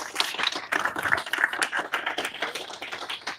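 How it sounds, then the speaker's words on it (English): An audience at a news conference claps in a steady patter of hand claps, moderately close and continuous for a few seconds with no talking. "Let's give a big round of applause to Alliana Arshad and T.T."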